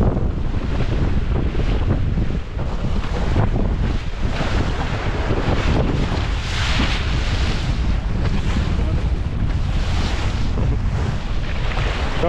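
Steady, moderate wind buffets the microphone aboard a fishing boat at sea, with waves washing against the hull in a continuous, loud roar and no talking.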